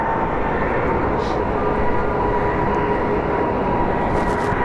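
A jet airliner at Phoenix Sky Harbor International Airport gives off a steady, loud engine roar that holds without a break, with a faint voice in the background.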